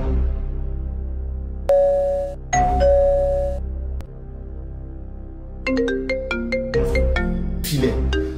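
Tonal electronic ringtone chimes sounding in repeated bursts over steady background music, a mobile phone ringing indoors, with melodic note patterns rising and falling, fairly loud and close.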